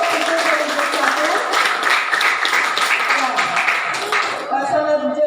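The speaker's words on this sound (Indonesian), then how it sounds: "beri aplaus untuk yang satu" Audience applause at a teacher-training class session at Universitas Negeri Surabaya: a dense, steady wash of many hands clapping, fairly loud and continuous, thinning out near the end.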